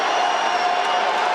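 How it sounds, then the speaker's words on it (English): Arena crowd at a freestyle wrestling match, a steady, dense roar of cheering and shouting that fills the whole moment without a break. "this crowd is letting Aitmukhan hear it"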